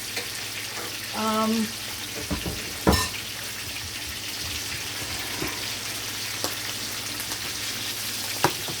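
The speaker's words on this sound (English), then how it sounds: "So the fish they're frying right now" Steady sizzle of fish frying in a pot, with occasional clinks and scrapes of utensils against the pot, fairly close, no talking.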